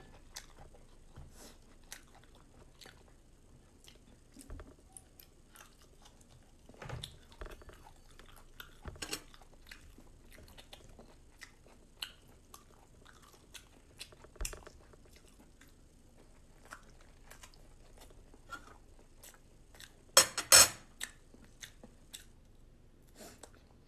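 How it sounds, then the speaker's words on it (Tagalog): Someone eats sticky rice close to the microphone, with soft sticky chewing and scattered crunchy bites spread through a quiet room, and a sharper cluster of bites near the end. "Dami pa rin yung kinakanin ko. Sticky rice."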